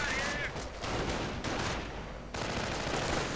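Dense gunfire and mortar blasts from a World War II strategy game, forming a loud continuous barrage of overlapping shots and thuds with no voices.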